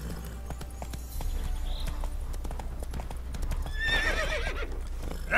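Roach, a horse in The Witcher 3, gallops with a quick run of close clip-clopping hoofbeats, then lets out a loud, wavering whinny near the end.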